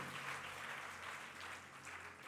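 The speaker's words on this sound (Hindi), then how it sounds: "ताली बजाइए" Audience clapping fills a hall at a talk on Hanuman and the guru, a steady, even wash of many hands applauding, faint overall and with no voices over it.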